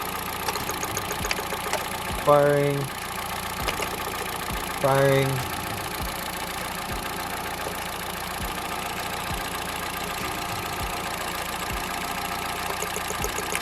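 A car engine idles steadily while its ignition coils are tested, with two short louder bursts of firing standing out over the constant running rumble, heard close up.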